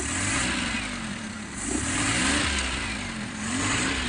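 A Suzuki F6A engine revs up under the throttle, its steady mid-pitched drone swelling and easing in a couple of waves, heard close and loud throughout with no talking.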